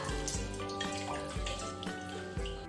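Tap water running and splashing into a container as water is collected after washing vegetables, a continuous close splashing with repeated drip-like impacts.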